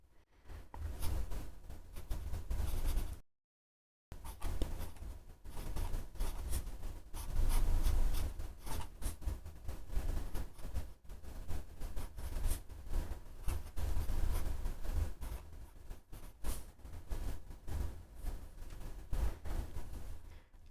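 A fountain pen with a number 6 1.5 stub nib ground to a sharp italic writes on thin Tomoe River paper, giving a steady close-up scratch and drag of strokes with a short silent gap near the start.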